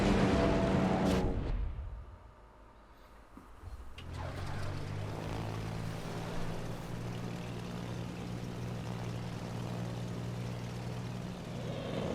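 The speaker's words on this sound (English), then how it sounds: "He's bringing in his bombers again." Bomber aircraft propellers in World of Warships, a steady droning hum that rises after a quiet gap and holds as a continuous low buzz, following a brief burst of noisy chatter at the start.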